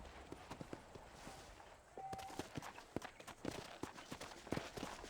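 Horse hooves clip-clop steadily in Red Dead Redemption, a fairly quick walking rhythm of distinct close hoof strikes over low ambient background, with no talking.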